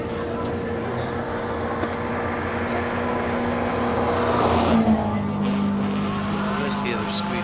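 A Volkswagen Golf race car runs at the Simola hillclimb, its engine a steady sustained drone at moderate distance, swelling briefly as it passes, with commentators talking over it throughout.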